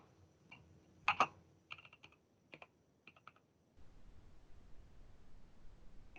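Someone types a username and password on a computer keyboard, sparse close key clicks in short uneven clusters with pauses between them, then a low room hiss and a final sharp click.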